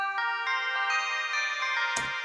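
Bell Mystery preset from the free Quilcom Mystery plugin plays a sustained, shimmering bell tone with rich stacked harmonics, loud and alone, with a brief bright accent near the end before it cuts off.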